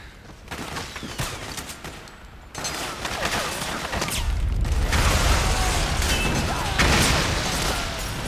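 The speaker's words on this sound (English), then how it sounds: "And I was about 2 inches away from getting blasted to hell by that exploding barrel." Gunfire and an exploding barrel in the video game Metal Gear Solid 4: loud, dense game combat with a burst of fire, a heavy boom and sustained rumbling bursts over several seconds, no talk.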